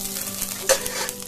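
Ginger and garlic cloves sizzle in a frying pan for palak paneer, a steady close hiss of frying with a brief stirring clatter in the middle and no voices.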